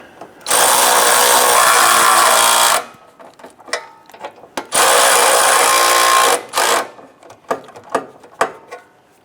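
A power tool runs exhaust nuts onto a Jeep Grand Cherokee catalytic converter in two loud, sustained whirring bursts of a few seconds each. Clinks and rattles of metal parts follow each burst.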